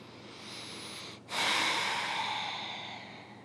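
A slow, breathy exhalation during a vinyasa yoga session, a long airy hiss heard close up after a brief pause, gradually fading.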